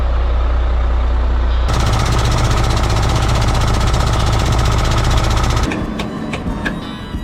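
A CAT C12 diesel big rig truck engine idles loud and close with a steady rhythmic knock and rumble, then the tone shifts partway through as the idle settles and a few sharp clanks sound near the end.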